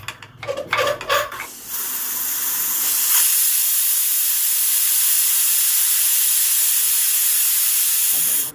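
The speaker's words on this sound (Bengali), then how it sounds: "প্রেশার কুকারটা আমি ঢাকাটা বন্ধ করে দুটো সিটি দিয়ে নেব" A pressure cooker boiling dal lets out a loud, sustained steam whistle that rises after a few clattering knocks and holds steady for several seconds before cutting off.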